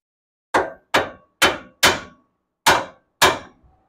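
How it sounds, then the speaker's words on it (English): Six sharp hammer strikes on a metal front suspension part of a Nissan Titan truck, ringing briefly, in an uneven rhythm with a short pause before the last two, close and clear. "We're just gonna tap on that right there with a few love taps."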